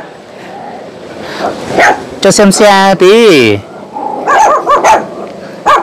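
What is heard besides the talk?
Hmong dogs barking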